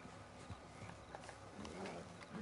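Horse hooves clip-clop faintly in Red Dead Redemption 2, a soft uneven patter of steps within game ambience.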